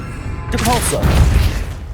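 Depulso spell cast in the Hogwarts Legacy video game, a sudden magical burst with whooshing, shimmering tones and a low rumbling thump that lingers briefly under ambient game sound, loud and close.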